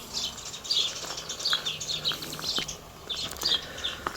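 Birds sing in a cottage garden planted for bees and birds, with bright, rapid chirps and tweets repeating in short bursts, fairly close and clear against a quiet background.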